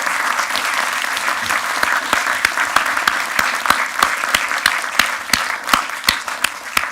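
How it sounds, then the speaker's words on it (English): An audience at a James Webb Space Telescope talk gives warm, steady applause, a close wash of many hands with a few sharp, prominent claps standing out near the microphone, and no talking over it. "Big round of applause, please, for people being really kind."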